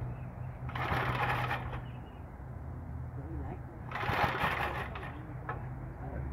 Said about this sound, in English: Push the throttle and give it more gas through the throttle.